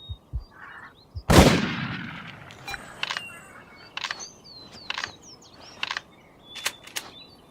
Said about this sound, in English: That was some wing shooting.